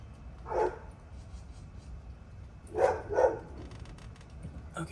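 A dog barks in the background while work goes on around a 1986 Toyota AW11 MR2, giving one bark near the start and a quick pair about three seconds in, moderately loud and with no one talking.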